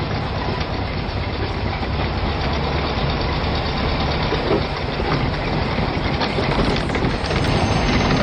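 An engine runs in third gear under only a light press on the accelerator, giving a dense, steady, broadband rumble at moderate level throughout with no voices.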